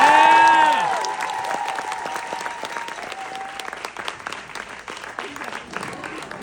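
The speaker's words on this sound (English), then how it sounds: "Please help us welcome Leila." An audience applauds to welcome a student giving a senior speech, with loud clapping that opens with a brief held tone and then settles into steady, dense applause lasting several seconds.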